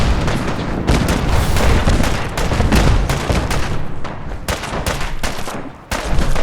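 Dense, continuous gunfire rattles through a Fallout 4 firefight at Bunker Hill, overlapping shots and booms packed tightly at high volume with only a brief dip near the end.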